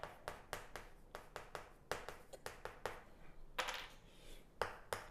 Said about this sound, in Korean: 친구들이 박수도 쳐주고